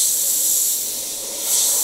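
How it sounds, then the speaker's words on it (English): An Iwata HP.BCS siphon-feed airbrush sprays paint with a close, steady high hiss of air that dips briefly and swells again, with no voices. "Pressing down for air, pulling back for paint"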